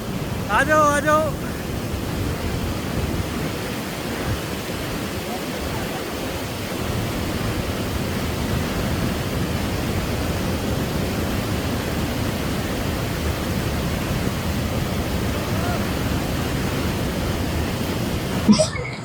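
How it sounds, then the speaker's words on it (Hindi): Fast-flowing, crystal-clear mountain river on the way to Sri Hemkund Sahib, a dense, steady roar of rushing water close by that continues unbroken throughout. "बहुत क्रिस्टल क्लियर वाटर है, पानी की स्पीड बहुत ज्यादा तेज है"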